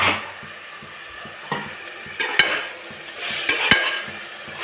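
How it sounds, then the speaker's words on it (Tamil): Pepper chicken frying in oil in a pan, sizzling steadily while a utensil stirs and scrapes it, with a few sharper clinks and scrapes standing out close by. "இந்த எண்ணெயிலேயே சிக்கன் வெந்துடும்"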